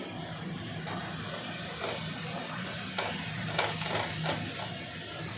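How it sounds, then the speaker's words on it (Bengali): Spice masala for chicken kofta curry fries in a pan, a steady soft sizzle and hiss broken by faint scraping stirs, quiet and close with no talking. "মশলাটা মোটামুটি ভাজা হয়ে আসছে"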